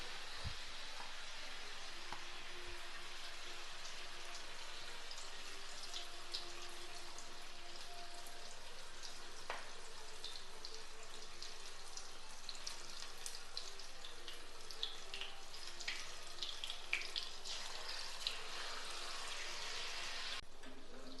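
Batter-dipped green chilies sizzling in hot oil for bajji, a steady dense crackle and hiss running throughout at close range, with no talk over it.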